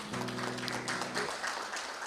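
A church congregation claps for Jesus at the close of a Wednesday evening service, a dense wash of applause filling the room over a sustained organ or keyboard chord that fades partway through.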